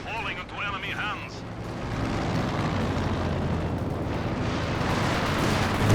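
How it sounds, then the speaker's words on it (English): A Stuka dive bomber attack in a competitive 2v2 match of the strategy game Company of Heroes: a steady roar of explosions and artillery-like rumble that builds and stays dense, with a commentator talking over it. "And Stuka going through."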